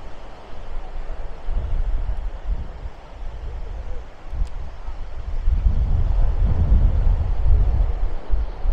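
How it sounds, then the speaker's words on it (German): Gusty wind at Maspalomas on Gran Canaria, roaring steadily and loudly against the microphone, with stronger buffeting gusts after the midpoint and no voices. "Schönes Wetter, ein bisschen windig."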